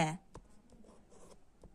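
Marker or chalk strokes on a classroom board, a few short scraping bursts in a quiet room, with a brief louder noise at the start.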